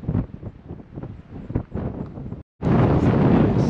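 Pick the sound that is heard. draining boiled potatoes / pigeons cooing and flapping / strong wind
strong wind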